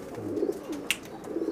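Breeder pigeons coo close by, soft low rolling calls repeated a few times over a quiet background with a brief sharper rustle between them.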